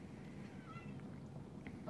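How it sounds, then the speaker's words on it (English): A cat cries from outdoors, wanting to be let in: soft, distant meows rise faintly over a steady background hum for about two seconds. "We got a cat outside."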